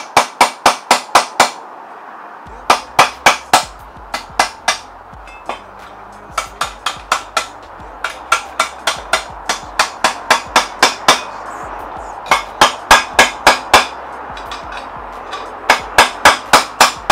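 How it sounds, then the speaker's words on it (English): Sharp metallic hammer strikes installing a headset on a fixed-gear bicycle fork, in quick bursts of several blows, loud and close, repeating steadily with short pauses between groups. "I'm going to use a hammer"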